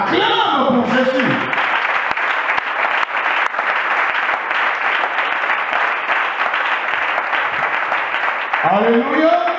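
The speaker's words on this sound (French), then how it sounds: "Qui acclame pour Jésus" A church congregation applauds and cheers in sustained, dense clapping that fills the space, with voices calling out at the start and end.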